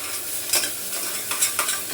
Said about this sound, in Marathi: आता याच्यात वाटण चांगलं परतले.